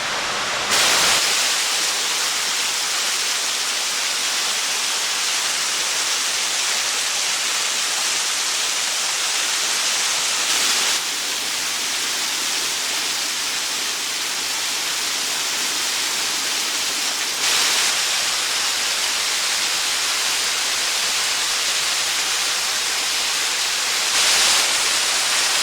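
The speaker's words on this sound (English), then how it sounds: "Okay, that's probably the waterfall, main waterfall up there." Scouten Brook Falls, a forest waterfall, pours in a steady, loud broadband roar that fills the whole stretch without pause, with no voices.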